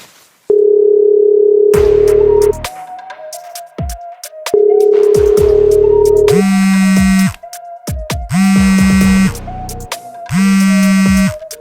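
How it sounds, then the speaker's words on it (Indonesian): A telephone rings at midnight: loud electronic ringtone bursts switching between pitches, repeating in a regular pattern with short gaps, alone without voices. "Siapa sih tengah malam gini nelpon?"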